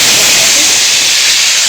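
Tilapia fish frying in hot oil gives a steady, loud, bright sizzling hiss that holds evenly throughout, with no talking.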